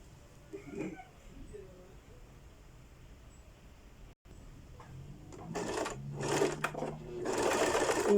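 A sewing machine straight-stitches a dart in fabric, running in short loud bursts near the end after quieter handling sounds, with someone talking in between.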